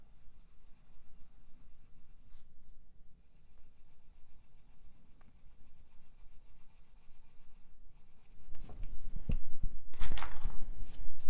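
Colored pencil blended and smoothed across paper with light pressure near the lead, a soft steady scratchy rubbing that runs throughout and grows louder and busier toward the end.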